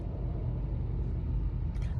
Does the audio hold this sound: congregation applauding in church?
no